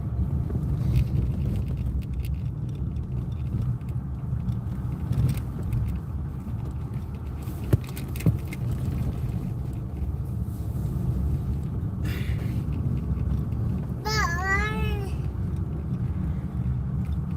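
A small car rolls along a rough desert road, its engine and tyre rumble a steady low drone throughout, with wind buffeting the microphone and a brief high whistling squeal near the end.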